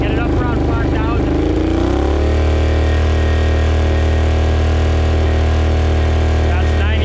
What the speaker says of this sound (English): here's a stock 850 Outlander with the stock exhaust